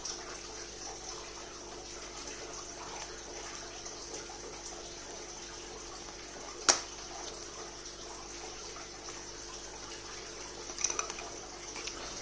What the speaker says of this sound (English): So let me take some water from the tap.